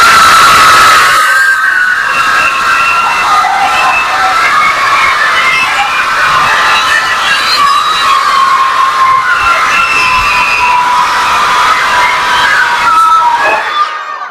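A loud group of children shouting together in a classroom or school session, a sustained dense roar of young voices lasting most of the stretch before cutting off abruptly.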